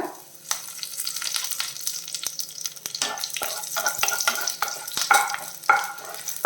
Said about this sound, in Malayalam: രണ്ട് മുളക് ഫ്ലെയിം കുറച്ച് വെച്ചോളാം കുറച്ച് കറിവേപ്പില